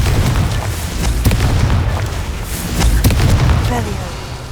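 Repeated Confringo fire-spell blasts in the Hogwarts Legacy video game: several deep booming bursts spread across the clip over a dense, continuous game soundscape.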